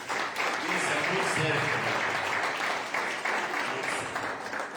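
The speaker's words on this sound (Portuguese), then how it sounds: "Dê um aplauso a Jesus." Church congregation applauding during a worship service, a steady broad wash of clapping that fills the room, with a voice speaking over it.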